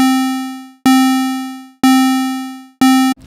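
Massive synthesizer square-wave tone pulsing in four loud, repeating swells, each note striking sharply then fading as a sequenced amplitude modulation steps through its pattern, with no talk.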